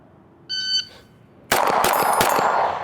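A ported CZ P-10C pistol fires a rapid string of loud, close gunshots on a range, preceded by a brief electronic timer beep.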